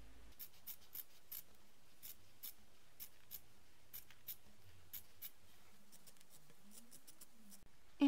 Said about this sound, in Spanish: con las tijeras cortamos alrededor de la llama, cortando toda esta tela que sobra